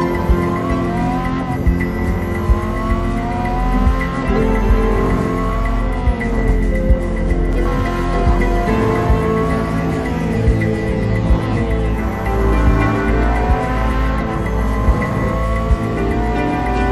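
A Ferrari F40 LM race car in the video game Real Racing 3 accelerates hard, its engine note climbing in repeated rising sweeps through gear changes, loud and continuous with occasional tire squeal.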